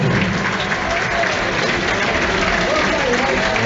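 Rugby crowd at a Cardiff versus Sale Sharks Challenge Cup match applauding and cheering two departing players, a dense, steady wash of clapping throughout.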